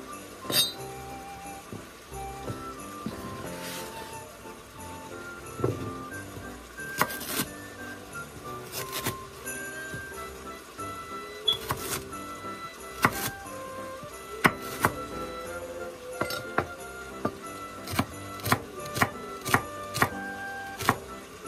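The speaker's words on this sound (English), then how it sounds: "And then, I'm gonna start chopping na this." Knife chopping food on a board for cooking, in irregular clusters of sharp close taps that settle into a quicker, steadier rhythm toward the end, mixed with light clinks and soft kitchen background.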